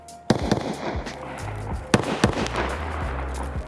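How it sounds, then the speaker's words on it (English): Sharp, loud rifle cracks from an unsuppressed Remington M700 or SVD in a first-person shooter game ring out three times over a low rumbling background, each with a brief echoing tail. "The crack of the unsuppressed Remington M700 or Sturman's SVD stands out first."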